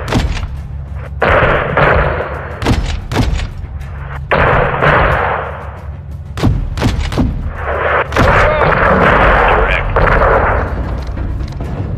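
Heavy gunfire pounds a convoy in Modern Warfare II, loud booming bursts in clusters with rumbling tails and sharp cracks, repeating several times across the stretch with brief lulls, mixed with radio-style voices.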